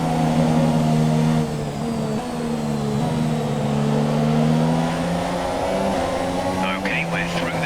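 Steady, loud engine drone with sustained harmonic whine of 2017 Formula 1 cars in the game F1 2017, holding nearly constant pitch throughout with slight dips.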